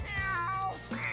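A cat meows in a short, close, clear call with a rising and falling tone, heard alone over a faint background.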